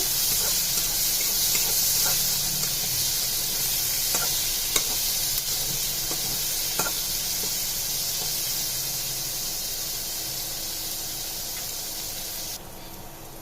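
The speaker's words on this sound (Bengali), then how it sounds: "পেঁয়াজগুলোকে লাল লাল করে ভেজে নিব।" Sliced onions fry toward reddish brown in a pan with cinnamon and cloves, a loud, even sizzling hiss with occasional light clicks of a stirring spoon, continuing without speech.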